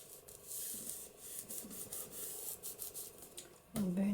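A paper fold for a flip flop journal is burnished down with a bone folder, giving quiet, close rubbing strokes in short repeated passes, faint and dry, with a brief louder scrape at the end.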